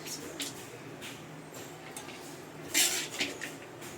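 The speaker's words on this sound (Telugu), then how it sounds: "ఇలాగ స్పూన్తో అయితే వేస్తున్నాను." A spoon scrapes and clinks against a metal pot while serving pulihora, tamarind rice, with a few soft taps and one brighter scrape, fairly close and quiet in a kitchen.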